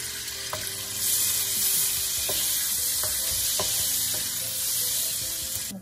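Dry red chili, a bay leaf, dried coriander and ajwain roast in hot oil for malai kofta gravy, giving a loud, dense, close sizzle broken by repeated clinks and scrapes of a stirring spoon, with no talking.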